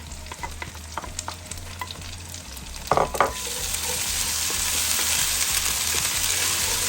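Ginger and garlic paste frying in a pot for mutton pilau, with a few light stirring clinks, then a steady, loud sizzle that takes over and holds.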